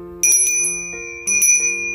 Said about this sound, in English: I'm just going to ring the bell, so quiet in your ears if you need to.